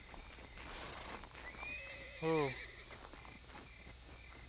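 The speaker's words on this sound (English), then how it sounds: "That is a horse." A horse in the video game SCUM whinnies loudly in a single descending neigh, clear over a faint ambient background, with brief speech nearby.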